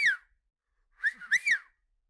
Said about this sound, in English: She taught her child how to whistle for the first time.